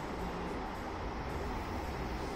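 A continuous, muffled rumble of a JR West Super Hakuto limited express train rushing past a station fills the whole moment at a steady, moderate level, with no voices.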